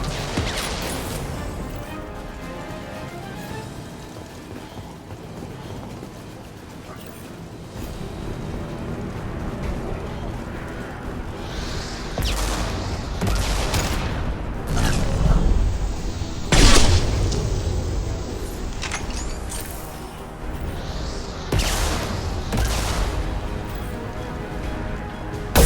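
Heavy weapon fire in Mass Effect 2 sounds as a series of deep booming blasts and crashing impacts, loud and close, with a sustained roar between hits and a particularly heavy blast midway.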